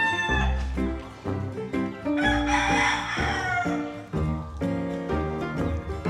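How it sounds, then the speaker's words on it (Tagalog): A rooster crows loudly and close by several times in a row, each call rising and falling in pitch, with brief pauses between them and no talk over it. "Kasi may manok. Naririnig niyo ba yung manok?"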